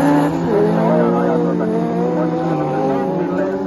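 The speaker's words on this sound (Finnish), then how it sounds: "Laakso siellä kolmospaikalla heittää rajuusladiin nyt autoa ja koittaa siinä pikkusen jekuttaa Okkosta" Rally car racing on a gravel stage in Seinäjoki, its engine roaring loudly with steady harmonic drone throughout, sliding as the driver throws it sideways; a commentator talks over the continuous engine noise.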